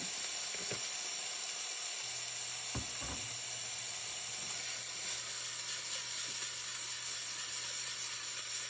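Peppers and onions sizzling in hot oil in a pan for birria tacos, a steady broadband hiss running throughout with a few brief clatters near the start.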